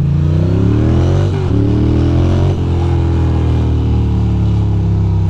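A Ducati motorcycle roars loudly on an empty Brooklyn street in New York, a close, throaty engine note with gear-shift dips as it revs and pulls past.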